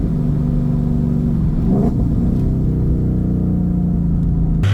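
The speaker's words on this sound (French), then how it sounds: "Fait qu'on fait quelques downshift, puis on passe à la drift." A 435 hp car engine rumbles loudly, pitch dropping and rising through a couple of downshifts before revving up into a drift, harmonics sweeping close and strong.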